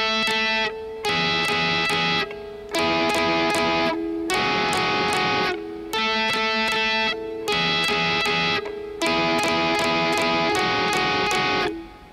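Distorted electric guitar plays a solo lead riff, a loud, repeating pattern of bright, chopped notes in short bursts with brief gaps, played alone with no talking.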